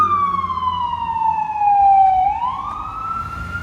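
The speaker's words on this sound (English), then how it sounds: "we got cars pulling over to let the cops go by" A police car siren wails through city traffic on a Brooklyn street at night, a loud steady tone sliding downward in pitch before switching to a faster rising cycle, with traffic rumble underneath.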